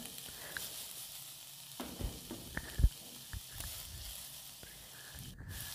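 Chopped capsicum and other vegetables are stir-fried in a pan, a quiet sizzle broken by scattered spatula scrapes and knocks against the pan.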